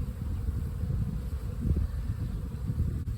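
A cast of honeybees in a green nucleus box being moved into a hive in a garden hums in a dense, continuous low drone, steady and close, with no voices.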